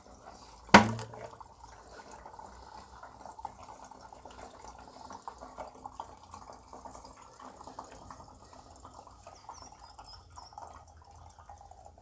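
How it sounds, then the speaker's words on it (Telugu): Water swirling inside a shaken plastic water bottle, a soft continuous sloshing and gurgling after a single sharp knock at the start, quiet and close. "ఈ విధంగా షేక్ చేస్తే మీకు సుళ్ళు తిరుగుతుంది వాటరు"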